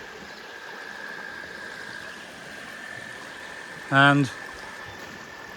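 Small tributary stream flowing through a pipe near a covered bridge in Tunbridge, Vermont, a soft steady trickle and wash under a brief spoken word.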